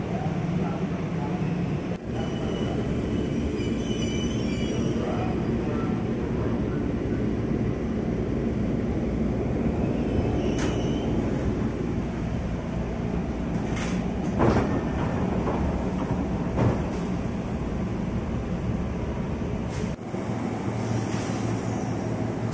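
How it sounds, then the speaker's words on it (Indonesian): JR East 203 series commuter train pulling into Cikini station, a continuous loud rumble and rolling roar heard from aboard, with a few clunks and squeals along the way and a voice talking over it. "Oke, kereta kita tiba di stasiun Cikini."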